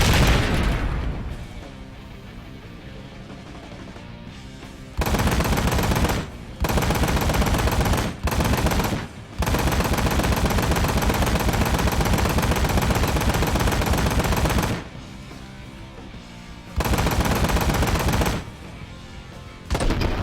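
Loud machine gun turret fire in the video game Ride to Hell: Retribution, long sustained bursts of rapid shots broken by short gaps, with a low rumbling ambience between volleys.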